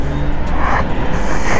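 A Mercedes car accelerating hard on the road, a loud close engine roar with road and wind noise that builds steadily, with no talk over it.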